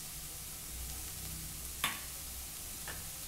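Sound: cabbage egg burji with spring onions frying in a pan

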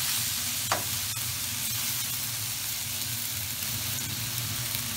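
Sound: stir-frying in a wok, Mongolian lamb

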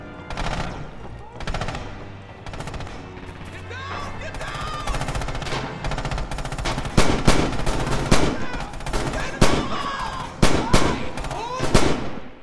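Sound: machine gun fire in video game Red Orchestra 2

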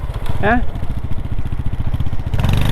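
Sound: motorcycle being ridden

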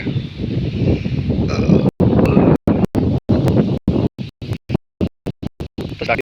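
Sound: wind blowing

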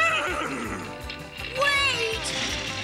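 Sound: horse neighing, cartoon

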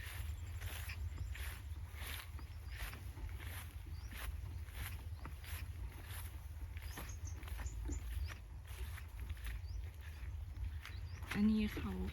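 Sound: rain

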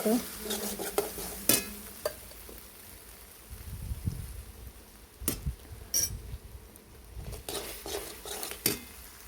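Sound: stirring and frying spice paste in pan

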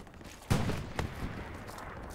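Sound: machine gun fire in the video game Hell Let Loose

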